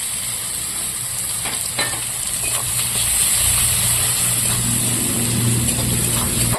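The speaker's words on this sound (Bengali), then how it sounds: "পেঁয়াজটা লাল লাল করে ভেজে নিয়েছি" Chopped onions fry in oil with bay leaves in a pan, giving a steady close sizzle that thickens slightly midway, with a few light clinks and no talking.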